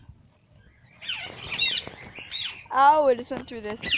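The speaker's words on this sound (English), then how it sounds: "if you guys can't hear those birds in the background, I have a lot of birds." Pet birds and chickens chirp and squawk indoors, a mix of shrill calls and harsher squawks that grow louder after the first second, with a person briefly talking among them.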